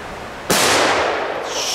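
A Belgian sniper firework, electrically ignited, goes off with a single sharp, loud bang followed by a long bright crackling burst that slowly fades.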